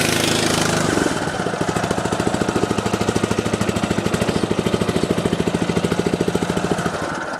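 A Muck Truck H Max power barrow's small engine chugs as the machine is moved, a loud, rapid, even pulsing thud that settles into a steady rhythm after a brief rougher start, close by and without talk.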